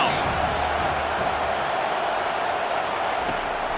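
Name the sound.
stadium crowd cheering for the defense in video game NCAA25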